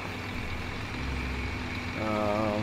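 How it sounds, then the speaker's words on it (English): A farm vehicle's motor revs in Farming Simulator 17, a low droning engine hum that rises in pitch and gains a whining overtone near the end, steady and moderately loud. "I don't need to listen to that motor revving like that"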